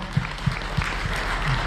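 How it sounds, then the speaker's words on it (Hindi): Audience applause in a gathering, a few sharp claps standing out over a steady wash of clapping that continues without a clear end. "तो साथियों ये तालियां आपने आपके लिए इसलिए बजाई"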